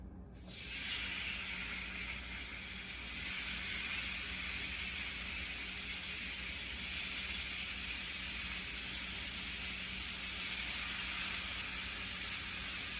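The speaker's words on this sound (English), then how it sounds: "I'm gonna stick them on the skillet" Cinnamon dry-rubbed pork chops hitting a hot skillet set off a loud, steady sizzle with a sharp onset, then a continuous bright hiss that holds at an even level throughout, with no talking.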